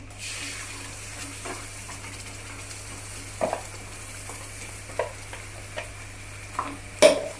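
Masala paste for paneer butter masala fries in a pan with a faint, continuous sizzle, broken by scattered scraping taps of stirring.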